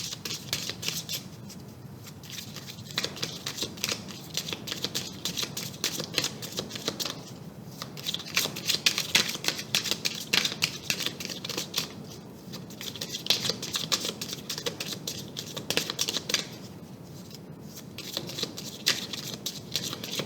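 Tarot cards are shuffled over and over in quick, papery riffling bursts, close and fairly soft, with short pauses between the runs of shuffling.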